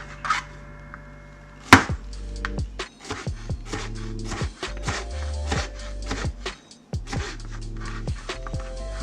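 A knife chopping zucchini on a cutting board, a series of crisp, close, fairly regular thuds and taps as even slices are cut, with one sharp louder strike near the start and no voices.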